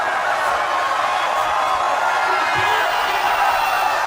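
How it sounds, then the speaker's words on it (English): A crowd in the boxing game Fight Night Round 2 roars in a dense, steady wash of cheering that holds at full volume the whole time, with no clear breaks. "listen to the crowd erupt"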